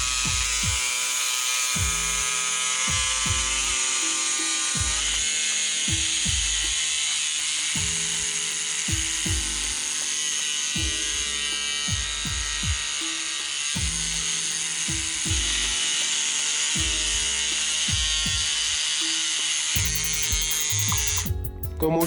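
A rotary direct-stroke tattoo machine buzzes steadily as its stroke knob is tightened, a high, even electric whine with a repeating lower mechanical chatter that pulses in a regular rhythm throughout, close and unaccompanied by talk.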